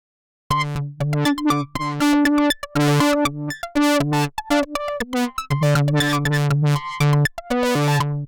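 A Knifonium synthesizer sequenced by LFOs plays a fast sequence of bright, buzzy, choppy notes whose pitch and timbre shift constantly, loud and up front with no voices.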